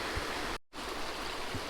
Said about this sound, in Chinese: 这条小溪在这个地方分流成了2条，一条流进了奔腾的大河里